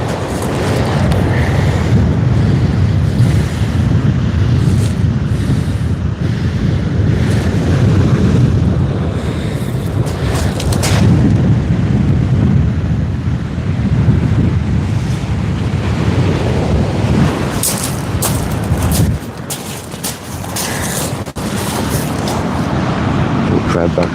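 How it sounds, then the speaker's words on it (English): Strong wind buffets the microphone at sea during kayak fishing, a loud continuous rushing roar mixed with wave wash, with a voice speaking intermittently under it. "I don't want to go mad in this wind."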